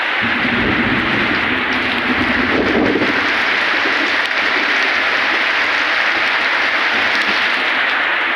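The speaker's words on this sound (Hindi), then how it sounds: "इधर बहुत तेज बारिश हो रहा है हमारा इधर" Heavy rain pours down steadily in a dense, loud wash, with a low thunder rumble swelling around the middle; no voices are heard.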